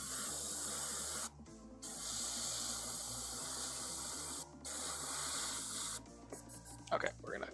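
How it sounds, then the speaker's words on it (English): Airbrush spraying in bursts while being cleaned of dried paint at its tip, a loud steady hiss broken by two short pauses and ending in brief clattering handling noises. "we're going to clean the airbrush here"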